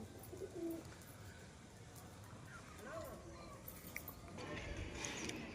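Pigeons in a sale pen give soft, low cooing calls now and then over a steady background hiss, faint and somewhat distant, with a person talking at times.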